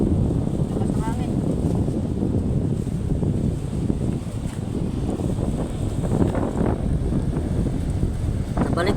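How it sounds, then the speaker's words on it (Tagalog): Strong sea wind buffets the microphone in a steady, loud rumble throughout, with faint voices underneath. "Lakas ng hangin."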